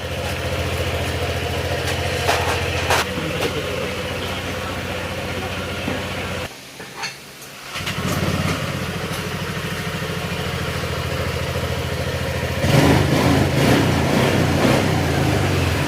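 A Honda Click 150 scooter engine idles steadily with a fast mechanical valve ticking from wide valve clearance, dipping briefly to near silence midway, then revving up louder near the end.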